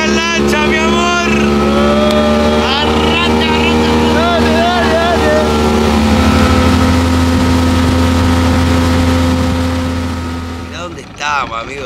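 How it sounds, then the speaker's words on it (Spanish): A loud motorboat engine revs and drones steadily on a river, with voices talking over it, then the engine noise drops off near the end. "Arrancó la lancha 1"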